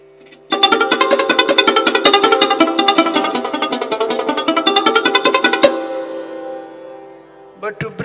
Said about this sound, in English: But if I play sarod with fingertip, it will sound like this.